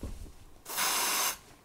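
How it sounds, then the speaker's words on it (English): Deodorant from an aerosol can sprays in one steady hiss lasting about half a second, close and fairly loud in a quiet indoor room. "I'm gonna put some deodorant on right now."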